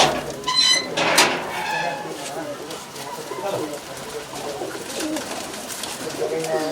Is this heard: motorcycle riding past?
no